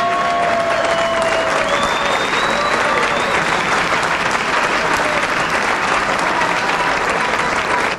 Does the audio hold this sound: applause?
yes